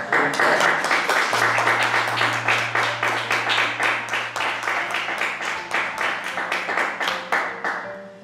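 Audience applause at a talk on Cervantes' La Numancia, a crowd clapping in a steady rhythmic beat for several seconds before fading out, with a low hum underneath.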